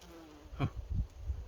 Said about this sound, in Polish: Także pszczoły kręcą się.